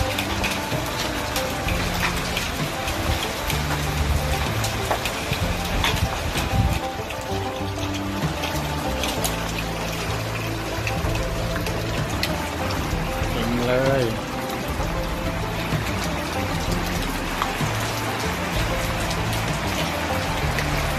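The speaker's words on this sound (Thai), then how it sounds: "พายุลูกเห็บครับ" Hailstorm pounding down at a house, a dense, steady roar of hailstones and rain drumming on surfaces throughout, with a voice speaking over it.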